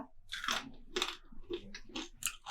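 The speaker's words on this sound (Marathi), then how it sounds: "तुम्हाला एक मोडून दाखवते हे बघा इतकी कुरकुरीत होतात ना मस्तच होतात बघा कटकन आवाज येतोय" Crispy fried bhaji (pakora) is broken and crunched up close, giving a series of sharp, brittle crackling bursts in an uneven rhythm against a quiet background.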